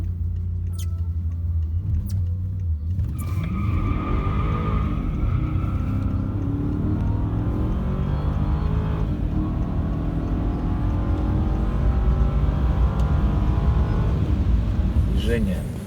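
BMW 645 accelerating hard through quick gear changes, a steady engine drone climbing and dropping with each shift, heard from inside the car with continuous road rumble and a voice talking over it.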